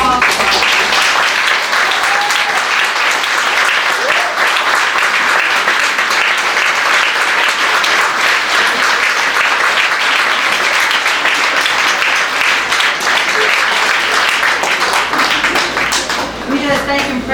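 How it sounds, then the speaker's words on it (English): An audience at the end of a stage play gives loud, sustained applause that stays dense and even for the whole stretch, with voices and cheers mixed faintly into the clapping. "Oh, can we have a round of applause?"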